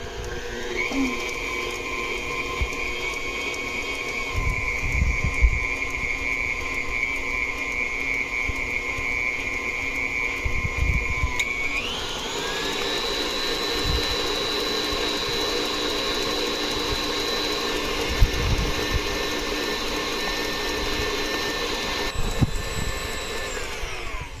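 A stand mixer whips a foaming whipped soap base with a steady, continuous motor whir that shifts pitch partway through as the speed changes, close and unbroken, with no talking.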